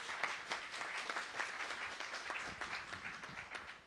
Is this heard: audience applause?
yes